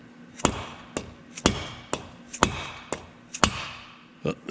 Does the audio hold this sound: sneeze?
no